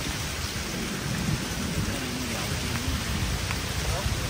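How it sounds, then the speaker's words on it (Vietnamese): Heavy, persistent rain pours down in the countryside during the flood season, a dense steady hiss with low rumbles beneath, broad and enveloping, with faint voices mixed in. "Mưa quá mưa cả nhà, mà là lại dai nữa."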